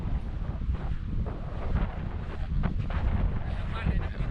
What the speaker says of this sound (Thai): อากาศลมแรงดีวันนี้ ลมแรงครับ